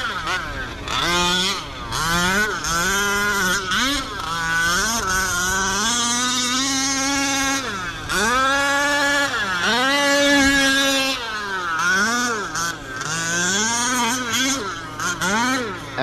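Losi 5T RC car powered by a 45cc OBR engine, at a track, revving loudly in repeated rising and falling bursts throughout, a buzzing two-stroke whine that dominates, with voices talking faintly underneath.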